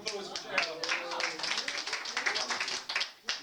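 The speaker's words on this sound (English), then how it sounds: "Round of applause for JR" Students in a classroom give a short round of applause for a classmate, a fairly close, uneven patter of clapping from a small group with some voices mixed in.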